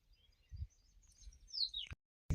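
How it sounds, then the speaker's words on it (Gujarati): A small bird chirps with a brief high, sweeping call amid faint low rumbling background noise, quiet and somewhat distant. "ચકલી આવી છે, જો તમને બતાવી દઉં."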